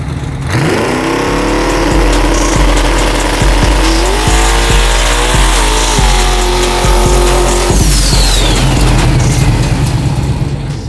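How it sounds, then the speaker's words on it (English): A truck with a faulty differential doing burnouts, loud engine revving and rising in pitch as tires squeal and skid continuously, with repeated rhythmic thumps and a final surge of engine roar. "But he did some burnouts."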